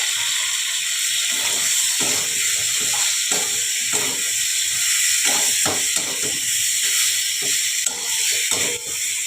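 Pointed gourd pieces sizzle steadily in a hot pan with mustard-poppy seed paste, a continuous loud hiss with faint crackles and occasional soft scrapes throughout.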